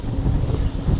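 Strong wind at a snowy ski area buffets the microphone in a continuous low rumble, loud and unbroken throughout.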